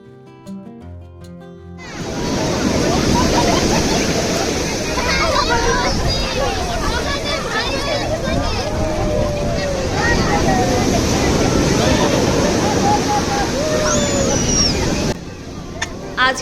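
Sea waves at Digha beach roll in as a steady, broad wash of surf with wind across the microphone, while a crowd chatters and people talk nearby throughout.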